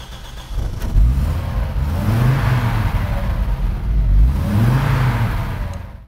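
Audi Ur-Quattro with its five-cylinder engine revving hard, two long rising pulls with a throaty, raspy note, loud and close with no talking.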